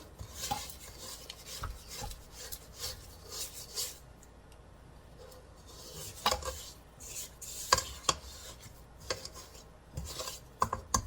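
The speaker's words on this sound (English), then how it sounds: "you want to make sure you scrape the sides of the bowl." A utensil scraping around the sides of a mixing bowl of gingerbread cookie dough, irregular rasping strokes and occasional sharper knocks, close and moderately loud, no talking.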